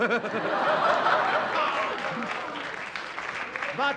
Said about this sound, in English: Shame on you lot for clapping